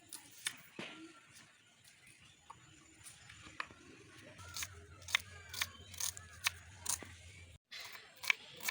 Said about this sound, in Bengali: প্রথমেই আমরা পেঁয়াজগুলো সুন্দর করে কেটে নেব।